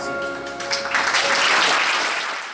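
Audience at an awards dinner for the International Folk Art Market in Santa Fe applauding, a dense wash of clapping that swells and then gradually fades over a couple of seconds, with faint voices underneath.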